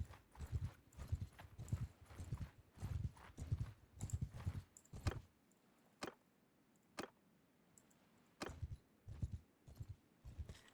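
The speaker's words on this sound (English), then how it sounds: "I like how there's a horse sound." Horse hooves clip-clopping in the Shokuho samurai video game, a steady rhythmic trot of soft hoof thuds that pauses midway, leaving a few isolated knocks, then resumes.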